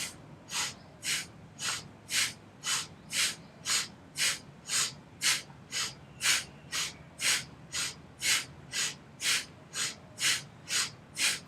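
Steady, rhythmic breathing during a kundalini yoga spinal flex warm-up, about twenty even, close breaths alternating inhale and exhale with no talking.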